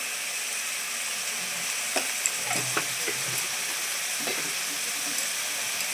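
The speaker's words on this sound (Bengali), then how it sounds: "দিয়ে এতে ভালো করে মশলাটা কষিয়ে নেবো" Spices seasoned with salt and turmeric sizzle steadily in a hot pan, a constant bright hiss with a few soft clinks and scrapes from stirring.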